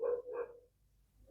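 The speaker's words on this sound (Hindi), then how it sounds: "तो कुत्ते बहुत आज भौंक रहे हैं" Dogs barking at night: two quick, fairly loud barks in a row, a short silent gap, then another bark starting up.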